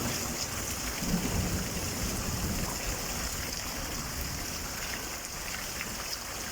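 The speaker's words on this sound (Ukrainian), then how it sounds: "Грозові дожі." Steady heavy rain from a September thunderstorm pours down with a low rumble of thunder underneath, a continuous wash of sound with no voices.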